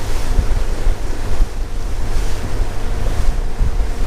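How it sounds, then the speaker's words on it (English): Wind buffets the microphone while waves slap and surge against a small fishing boat at sea off Milford Haven, Pembrokeshire, a loud, constant roar with no talk. "Trust me, it'd be better with no wind."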